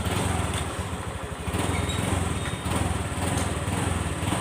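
A Honda Click 125 scooter engine with a rough-running fault runs close by, revving up and easing off in a couple of waves with a buzzy, rattling tone.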